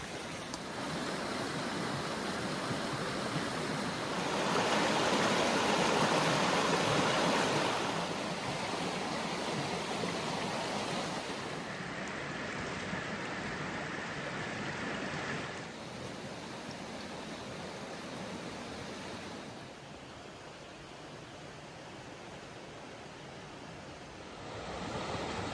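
River water rushes over stone weirs in a Peak District dale, a steady broadband roar that swells louder for a few seconds, then settles to a softer continuous flow, with no voices.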